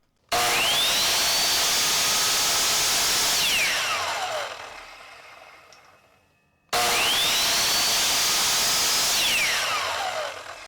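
A Ryobi compound miter saw motor with no soft start whines up sharply to a loud high-pitched run, then winds down and fades to silence, and the whole start-up and spin-down happens twice.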